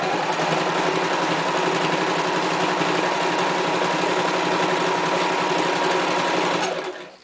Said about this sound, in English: I'm going to take a straight stitch and go all the way around my entire cloth wipe